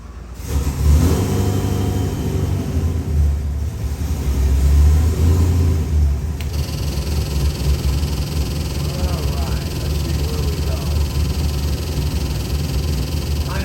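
A Whipple-supercharged 7.3L Godzilla V8 runs on a dyno, with a loud, steady, high-pitched engine roar that swells and holds, then shifts to a slightly different steady drone partway through.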